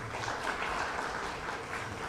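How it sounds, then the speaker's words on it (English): An audience at the Mhasibu Sacco 40th anniversary celebration claps in a dense, even burst of applause that lasts a couple of seconds. "One more time, let's give a round of applause to the"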